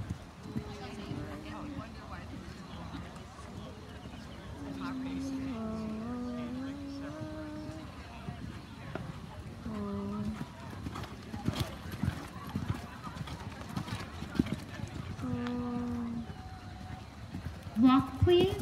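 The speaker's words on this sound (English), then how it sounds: "Canter, please." Horses canter around a show ring in a walk-trot-canter class, their hoofbeats a soft, continuous rhythmic clip-clop under an announcer's voice and occasional background chatter, with a whinny or two heard.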